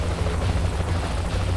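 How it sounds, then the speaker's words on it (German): A helicopter in the video game Saints Row: The Third gives off a loud, steady rotor and engine roar that fills the whole moment without a break, with no talking over it. "Ja, jetzt im Heli, Alter."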